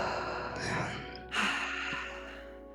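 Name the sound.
deep breath during a relaxation exercise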